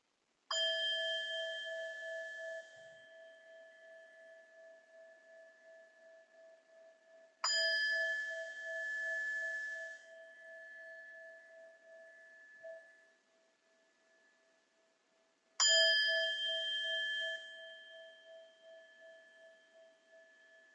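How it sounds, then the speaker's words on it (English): A meditation bell struck three times, each ring clear and sustained, slowly fading before the next strike in a quiet room. "opening to receive the sound of the bells."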